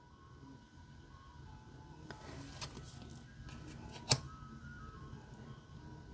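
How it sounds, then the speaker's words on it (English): An ice cream truck's tinkling tune plays faintly from outside, thin melodic notes over a low background hum, with a sharp click partway through. "we have an ice cream truck going on outside"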